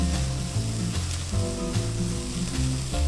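Chicken pieces sizzle loudly in a hot pan while cooking for kimchi fried rice, a steady close frying hiss with occasional stirring scrapes and no voices.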